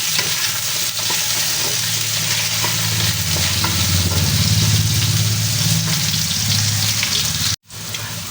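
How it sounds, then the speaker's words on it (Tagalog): Vegetables fry and sizzle in a pan for chicken pochero, a steady loud crackle with stirring, continuous through most of the stretch before a brief cut near the end. "nakikita nyo ay half cook na po at prito na po yung ating mga gulay"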